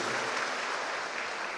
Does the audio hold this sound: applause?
yes